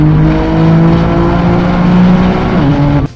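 A BMW M3 CS with an inline-6 twin-turbo S65 engine, held at a loud, steady, close-up drone that dips slightly in pitch and cuts off sharply at the end.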